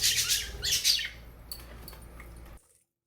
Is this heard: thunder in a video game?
no